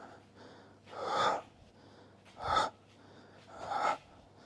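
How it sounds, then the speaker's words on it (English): Three sharp, breathy exhales come about a second and a half apart, close and fairly loud, as punches are thrown during home martial arts training in MMA, Muay Thai and kickboxing style. No one speaks. "anytime you're throwing a punch, make sure that you breathe out as you do it"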